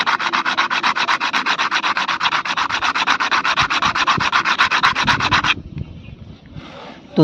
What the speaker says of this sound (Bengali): তো চলো পদ্ম দানাটা তোমাদের ঘষে দেখাই